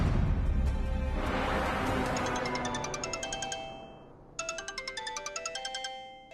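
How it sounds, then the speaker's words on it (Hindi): A phone ringtone rings loud and close in a Hindi TV serial household scene, a repeating bright electronic melody pulsing steadily, pausing briefly and then starting again with the same tune. "किसका फोन है?"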